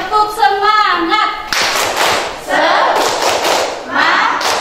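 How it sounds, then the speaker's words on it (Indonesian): Students stand and do a rhythmic spirit clap (tepuk semangat) in a classroom, a voice chanting first, then several loud, close bursts of patterned group clapping and thumping. "Kita mulai, tepuk semangat."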